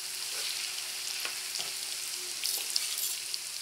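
Small pieces of fish frying in hot oil for a fish pickle, a steady close sizzle with a few louder crackles and pops, no voices.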